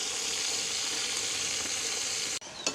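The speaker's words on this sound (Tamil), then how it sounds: "அப்படியே பொரியட்டுக்கும் எங்களுக்கு." Pieces of meat frying in hot oil, a dense, steady sizzle heard close and loud, with a brief clatter near the end as the pan is stirred.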